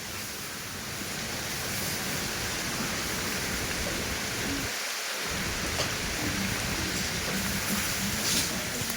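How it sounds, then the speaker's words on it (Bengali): Storm outside with heavy rain, a constant dense wash of rainfall and gusting noise steady through the whole stretch, heard from indoors with no talk. "বাইরে ঝড় বৃষ্টি চলছে"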